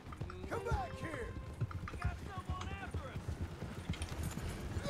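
Horse hooves clip-clopping in the video game Red Dead Redemption 2, a trotting rhythm of muffled thuds under someone talking, with game sounds around.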